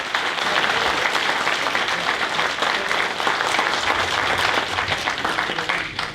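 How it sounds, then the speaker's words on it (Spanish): A church congregation applauds: dense, loud, continuous clapping from many hands fills the whole stretch, with no talking over it. "si es aplauso para el Señor, usted sabe cómo tiene que ser."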